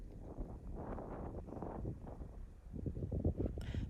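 Gusty wind buffets the microphone on an exposed coastal spot on the Isle of Lewis, a low continuous rumble that swells and surges louder near the end.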